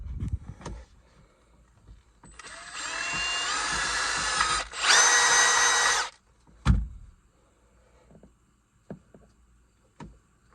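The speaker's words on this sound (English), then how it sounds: "I think I'm gonna find a drill that size to run it through the plastic piece" An electric drill bores through a plastic piece in two bursts lasting a few seconds each, with a high whine, surrounded by quiet workshop clicks and knocks.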